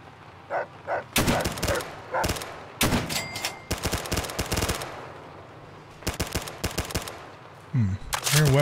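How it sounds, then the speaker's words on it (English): Weapons firing in Fallout: Tale of Two Wastelands as several loud automatic bursts of gunfire, separated by short pauses, close and dominant, with a brief voice near the end. "Their weapons fire"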